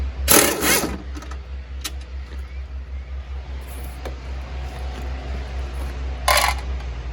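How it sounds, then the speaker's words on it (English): Nuts and bolts from a Honda Accord truck build drop into a small bucket, a loud metallic clatter at the start and another near the end over a steady low engine-like hum. "I got a little bucket here. I'm keeping all the nuts and bolts in."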